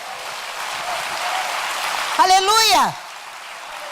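A church congregation bursts into applause and cheering for a few seconds, loud and dense, with a voice calling out over the clapping.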